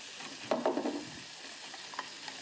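Food frying in a pan until golden brown makes a soft steady sizzle. A brief louder crackle comes early as it is stirred or moved, then settles back to a quiet hiss.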